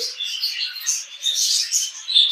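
Rainbow parrots chirp and tweet continuously at close range, a busy stream of high, thin calls with no talking.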